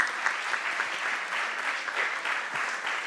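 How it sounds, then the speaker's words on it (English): Sustained applause from an audience at a discussion event on the European Union, a broad, even wash of many hands clapping at once, somewhat distant and steady throughout. "Can we please have a huge round of applause for ma'am?"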